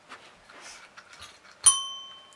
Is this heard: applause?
no